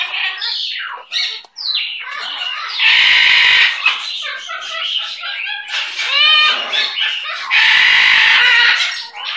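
A pet bird calls loudly and up close in a rapid mix of squawks, chirps and warbling whistles, with sustained harsh screeching bursts between busier chatter.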